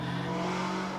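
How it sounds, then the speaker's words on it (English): Traffic outside is heard through open windows from inside a room, with a car engine giving a steady, moderately loud hum that carries on for the whole moment. "so you're going to hear the cars and stuff outside"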